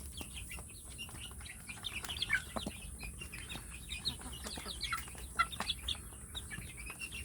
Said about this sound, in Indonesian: nanti dalam satu kelompok ini bisa dikembangkan satu kelompok, satu komunitas ayam kampung untuk petelur ya